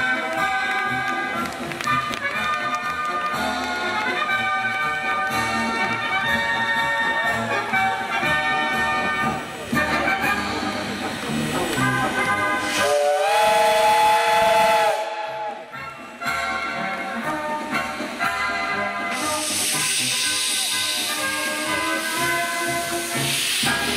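A preserved Soviet ER-series steam locomotive, number 77438, at a steam locomotive parade in Moscow, with loud continuous hissing steam and sustained whistle tones that rise and swell, a brief break near the middle, then bright hiss returning.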